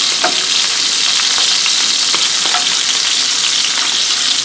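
Shrimp frying in a pan for a Cajun shrimp and grits dish give a loud, constant sizzle, with faint clinks and stirring as they are turned. No voice is heard.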